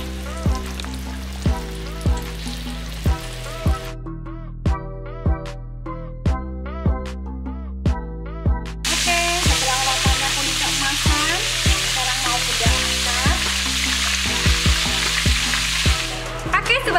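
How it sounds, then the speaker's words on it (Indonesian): Chicken-filled samosas sizzle loudly as they fry in hot oil in a home kitchen, a steady crackling hiss that swells and thickens midway, running alone for the whole stretch with no talk over it. "Nah, ini sekarang bunda mau goreng."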